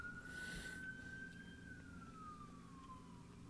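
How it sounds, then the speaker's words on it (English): Emergency vehicle siren outdoors, a single steady wailing tone that rises slightly then slowly falls, fairly distant against low rumbling background noise. "Wow, lots of sirens over here."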